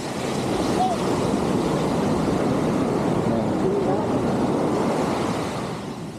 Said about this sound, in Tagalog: So dito lang tayo sa tabing dagat.